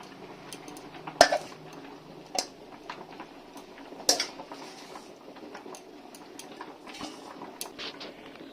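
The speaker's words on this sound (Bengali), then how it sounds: "জল দিয়ে মা আরেকটু নেড়ে নিচ্ছে" Handi chicken is stirred in a pot after water is added, giving sparse metallic clanks and scrapes, with a couple of louder knocks early on and a faint simmering background.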